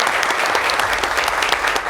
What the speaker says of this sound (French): Et on va les applaudir très fort.